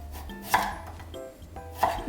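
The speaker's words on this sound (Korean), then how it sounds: "모두 비슷한 크기로 작게 잘라주세요" Vegetables are being diced small with a knife on a board: two or three crisp, separate chops spaced about a second apart, close and fairly quiet, with no voices.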